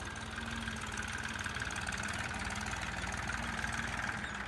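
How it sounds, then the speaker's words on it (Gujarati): A tractor engine chugging steadily while plowing a castor field, with a rapid low knocking rhythm, close and continuous, no voices. "ટ્રેક્ટર હળવાનું ચાલુ છે"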